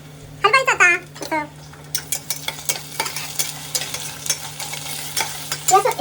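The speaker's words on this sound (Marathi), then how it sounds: "अद्रक लसणाची पेस्ट आता हलवायचं." Ginger-garlic paste stirred in a frying pan gives close, rhythmic scraping strokes over a soft sizzle, and a brief voice is heard at the start.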